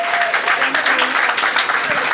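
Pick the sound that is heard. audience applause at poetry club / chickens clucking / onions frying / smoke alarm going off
audience applause at poetry club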